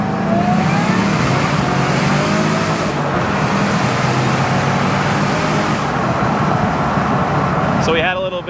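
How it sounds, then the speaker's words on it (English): A 2003 Ford Mustang Cobra accelerates hard in first gear, its engine note rising loudly and steadily throughout, heard close up with some road and wind noise. "Here's our first gear pull."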